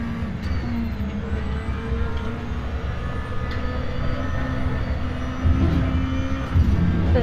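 Racing car engine in the RaceRoom Racing simulator game, a steady loud drone held throughout with shifting tonal engine harmonics and brief surges near the end, no talking.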